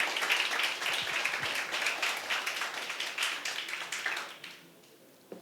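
A church congregation applauds during a Brazilian evangelical celebration service, a dense wash of many hands clapping steadily and fairly close, then thinning and fading out near the end.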